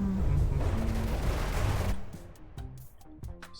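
Shells firing in From the Depths: a dense, loud barrage of overlapping blasts for about two seconds, then a scatter of sharper separate reports trailing off.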